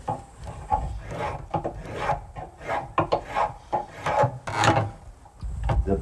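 A hand tool rasps and scrapes across the outside of a wooden bowl being shaped, in uneven back-and-forth strokes, close and moderately loud with short pauses between passes.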